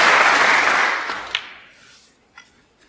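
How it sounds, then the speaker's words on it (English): A snooker crowd at the 2014 UK Championship applauds a century break by Stuart Bingham, dense clapping that fades away within a couple of seconds, followed by a few faint isolated knocks. "he gets the applaud of this crowd"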